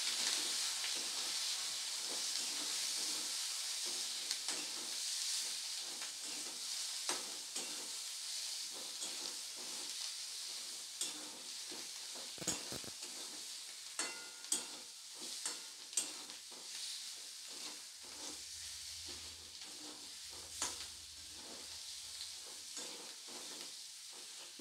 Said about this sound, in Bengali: এবারে সমস্ত কিছুকে খুব ভালো করে একসাথে কষিয়ে নেব।